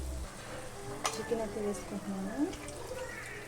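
Chicken frying in a pan with onions, tomatoes, ginger-garlic paste, coriander and curry leaves for chicken curry. A soft sizzle with occasional stirring scrapes plays under a speaking voice.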